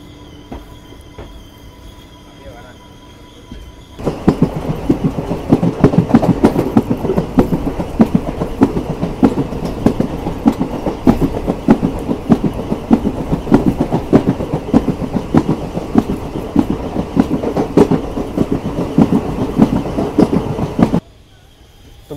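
At Pamban railway station, a former junction, a train rolls past with a loud, steady rumble and rapid clickety-clack of the wheels for about seventeen seconds before it cuts off.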